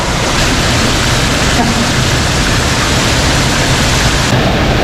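Water rushes and drains through a blocked culvert, a loud, steady roar of flowing water close by with no break throughout.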